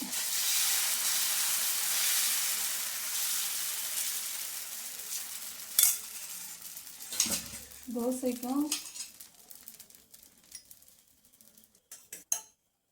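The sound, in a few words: dosa batter poured and sizzling on hot pan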